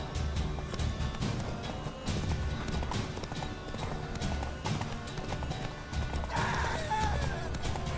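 Horse galloping in the video game Witcher 3, with rhythmic clip-clop hoofbeats running steadily throughout, a whinny and some game music and effects mixed in.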